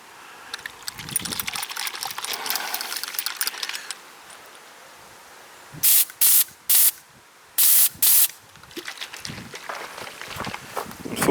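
A siphon bottle sprays outdoors in short hissing bursts, five or so sharp loud blasts in the second half, after quieter rustling and handling noises, with no talk.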